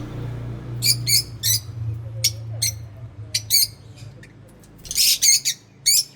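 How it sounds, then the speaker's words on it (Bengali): Pet lovebirds in an open cage give sharp, high chirps in short bursts and clusters, some spaced out and some rapid, over a low steady hum. "আমার লাভবার্ডগুলো সব বসে আছে, কিন্তু বেরাচ্ছে না খাঁচা থেকে"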